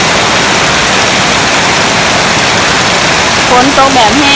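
Heavy rain pours down on a house in a dense, steady hiss that fills the background, and a voice briefly breaks in near the end.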